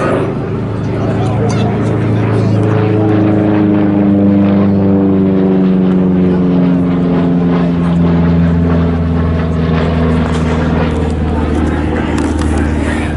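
A WWII propeller aircraft roars past overhead at a re-enactment show, its droning pitch sliding downward as it passes, loud and sustained throughout.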